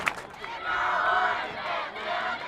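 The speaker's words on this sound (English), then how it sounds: "You can hear the cheerleaders getting this hometown crowd going." A hometown crowd at a Westfield at Richland Center football game roars as cheerleaders lead it, a broad sustained cheer of many voices that swells, dips and rises again.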